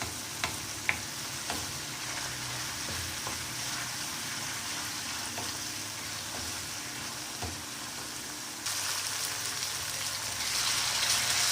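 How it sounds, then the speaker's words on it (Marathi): Black chickpeas sautéing in a pan for a spicy chana masala, a loud continuous frying sizzle with a few spatula taps early on, growing brighter toward the end, with no voices. "छान असं परतून घ्यायचं त्याला पण। दोन मिनिटं होऊ द्यायचं, 2 ते 3 मिनिटं।"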